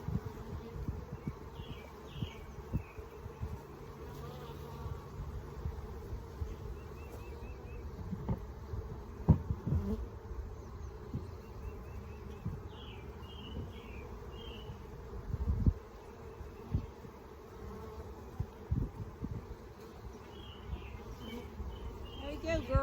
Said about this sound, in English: Keep them bees buzzing.